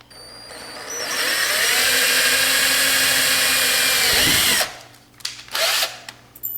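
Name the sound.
drilling a pilot hole with 1/8 inch drill bit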